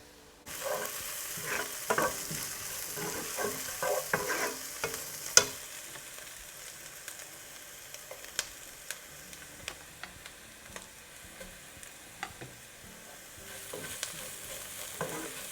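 Chopped garlic and chili fry in a pan for a chickpea and paneer pulao: a low, steady sizzle runs throughout, dotted with faint ticks and an occasional louder clink of the spatula.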